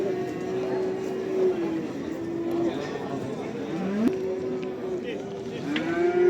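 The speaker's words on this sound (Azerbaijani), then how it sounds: "Kardeşim bak böyle bordağa giden danaları var" Cattle lowing at a livestock market in Barda, several drawn-out moos rising and falling over a busy crowd murmur, with voices talking in the background throughout.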